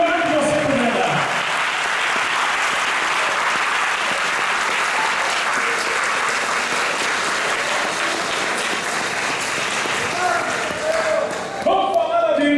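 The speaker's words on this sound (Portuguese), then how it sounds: "dê para Jesus uma salva de palmas nessa noite" Loud, sustained applause from a church crowd, dense clapping filling the space without a break and tapering slightly near the end.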